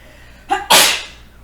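A single loud, close sneeze: a short sharp intake followed by an explosive burst that trails off quickly, with no talk around it.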